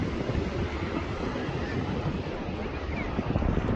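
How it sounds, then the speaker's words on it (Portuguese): Sea surf and strong wind at Lucena beach in Paraíba, Brazil, after rain: a steady, loud roar of waves with heavy wind buffeting the microphone, continuous and close, with no talk. "Cheguei aqui, pessoal, na praia de Lucena."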